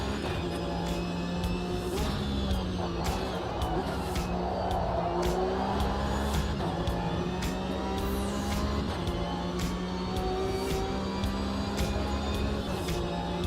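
Race cars lapping the Bathurst circuit in a racing video game: continuous engine whine with shifting pitch, repeated gear changes and brief tire squeals, steady and moderately loud with no pause.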